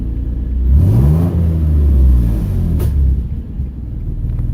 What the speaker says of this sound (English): Es un exhaust leak, güey.